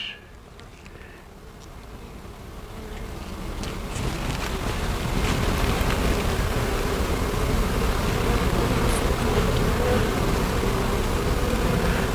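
Honey bees swarm and buzz around an open hive box holding honey, nectar and pollen, a dense steady drone that swells over the first few seconds and then holds loud and close, with faint wind noise underneath.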